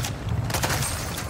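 Rapid bursts of video game gunfire in a military shooter set in the DMZ, loud and continuous with dense overlapping shots throughout.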